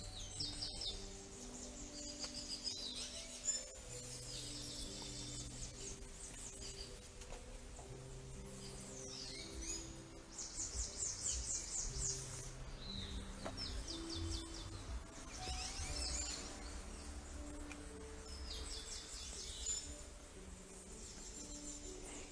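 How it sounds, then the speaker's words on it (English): Faint, scattered bird chirps and short calls high above a steady low background hum in a garden, continuing throughout. "You could even hear the birds are singing merry tunes."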